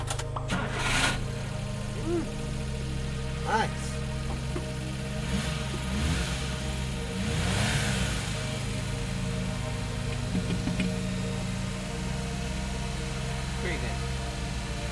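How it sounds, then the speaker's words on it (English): A Suzuki Carry kei truck engine (DC51T/DD51T) idles steadily with a low rumble, rising briefly into revs, while a voice speaks over it. "Let's turn on the engine."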